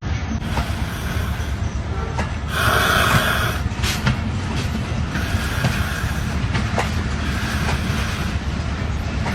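A train rolls past on rails with a loud, steady rumble and repeated metallic clacks. A brief, harsher swell of noise comes partway through, and no one speaks.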